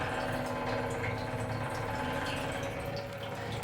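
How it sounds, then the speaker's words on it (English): An off-vehicle fuel sender pump from a VP–VS Holden Commodore ambulance, powered directly from a battery, running as a continuous close whirring hum with liquid gurgling through it, steady and unbroken. "I just touched it on the battery a little bit and it already started to pump fuel"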